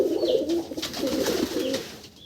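Low, throaty pigeon cooing, a few soft rolling coos close by, with faint chirps from other birds in the background.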